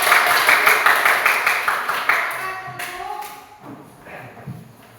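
Students in a classroom clap together in a loud burst of rapid applause that thins and fades over a few seconds, with scattered taps and voices trailing at the end.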